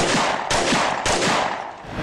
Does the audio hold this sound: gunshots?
yes